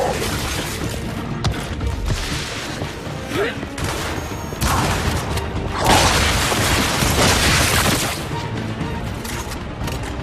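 A grenade explodes in Gears of War 5 amid a chaotic battle, with heavy booms, bursts of gunfire, shattering and clanking mechanisms, and voices calling out over the din.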